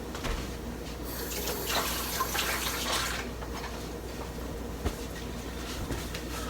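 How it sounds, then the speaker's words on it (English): A kitchen tap runs steadily while hands are washed beneath it, a close, moderate rush of water with faint splashing changes and no talking. "Hold on, let me wash my hands."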